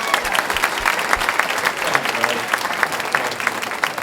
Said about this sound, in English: Would y'all give this good man a round of applause?